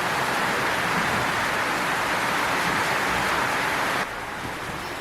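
Heavy rain pours down in a dense, steady hiss that stays loud and constant, then abruptly drops to a softer level near the end, with no voices heard.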